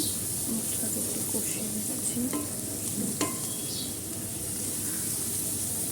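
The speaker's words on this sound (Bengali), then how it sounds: "হলুদের গুঁড়ো দিয়ে দিলাম এবার আমি ভালোভাবে কষিয়ে নেব" Prawn masala with turmeric powder sizzles continuously in a pan on the stove, a steady close hiss of frying under occasional soft scrapes of a spoon being stirred through the spices.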